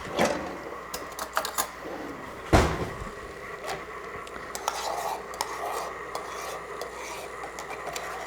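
A spoon stirs frothed milk in a cup, making close clinks and scrapes against the sides, with one sharp clatter partway through, then lighter tapping and stirring.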